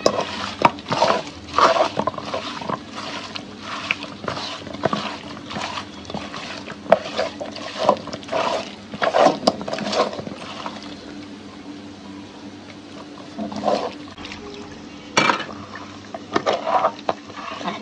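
Raw beef being mixed by hand with white oil and salt in a pot, with repeated squelching and clattering strokes in an irregular rhythm, close and moderately loud, no voices.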